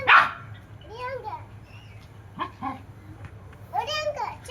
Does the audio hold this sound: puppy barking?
yes